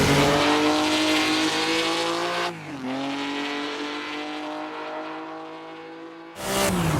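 A race car in Assetto Corsa at Silverstone accelerates hard, its engine climbing steadily in pitch through the gears with a loud, continuous roar, briefly dropping on an upshift before revving on and cutting off near the end.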